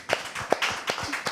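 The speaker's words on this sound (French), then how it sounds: "je voudrais demander au public de rendre gloire au Seigneur par des applaudissements" A church audience offers a brief, sparse round of applause, just a handful of separate, close hand claps at an uneven rhythm.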